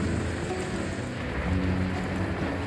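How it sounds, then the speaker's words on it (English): Steady rain falling on the Camino de Santiago, a dense continuous hiss of drops on surfaces with low rumbling underneath, constant throughout with no voices. "Bro, it is raining."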